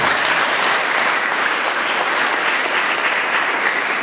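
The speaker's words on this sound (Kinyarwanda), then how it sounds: "Munize amashyi mbashimire" A church congregation in Nyamagana applauds together, producing a dense, even wash of clapping that holds at a constant loud level throughout.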